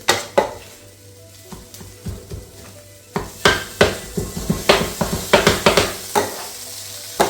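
Mutton kottu roti, Jaffna style, chopped and fried on a hot grill: loud metal blades clang against the griddle in irregular bursts over a low sizzle, the strikes getting quicker and denser partway through. No voices.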